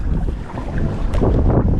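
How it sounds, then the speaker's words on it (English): Strong wind buffets the microphone in low, rumbling gusts by the water in the North Carolina mountains, with faint water and outdoor noise beneath and no one speaking. "We had a little delay because it's so windy out here."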